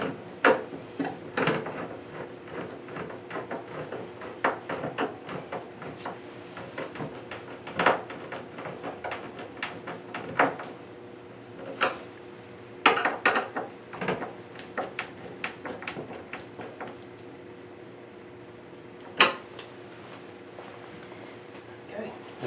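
A cabinet door is fitted onto a bathroom vanity, with repeated close wooden knocks, clicks and hinge clatter coming in irregular bursts under ongoing talk.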